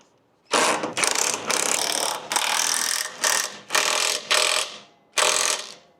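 An impact gun fitted with a 3/4 inch socket tightens the shock on a 2020 Softail motorcycle. It fires in about seven sharp, loud ratcheting bursts with short gaps between them, heard up close and with no talking.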